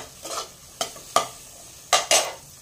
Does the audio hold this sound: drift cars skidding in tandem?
no